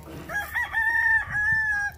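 A notoriously mean brood rooster crows one long, loud cock-a-doodle-doo up close, its harmonic call rising then holding steady for nearly two seconds with a brief break midway, over faint farmyard background.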